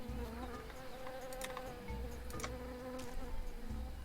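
A bee buzzes steadily in the Tales of Monkey Island video game, a close insect drone running throughout with short brighter clicks and accents layered over it, no voices present.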